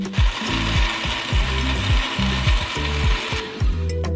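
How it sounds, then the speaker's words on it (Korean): A blender grinds melon pieces at maximum speed with a loud, repetitive churning, low thumping pulses recurring about twice per second under a steady high whir. "멜론을 모두 믹서기에 넣고"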